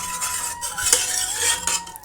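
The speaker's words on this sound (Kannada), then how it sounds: "ಹೀಗೆ ಸ್ವಲ್ಪ ಸ್ಮ್ಯಾಶ್ ಮಾಡ್ಕೊಳ್ಳೋಣ." Cooked lentils are mashed in a pot for sambar, giving soft scraping and light metal clinks of a utensil against the pot, close up and quiet with no talking.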